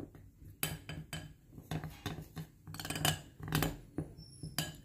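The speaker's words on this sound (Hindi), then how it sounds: "तो अब मैं इसको मिक्स कर लेता हूँ।" Dry rose petals being stirred into homemade talcum powder, giving quiet scraping and clinking of a spoon against a bowl in irregular bursts, close and soft, with no talking.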